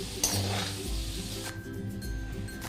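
Potatoes fry in mustard oil with a soft, steady sizzle, a sharp burst near the start, then quieter crackling beneath a backing melody.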